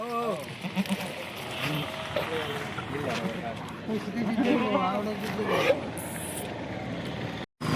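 Goats bleat near and far amid a livestock dealer's yard, a few wavering calls standing out over steady conversation and background noise.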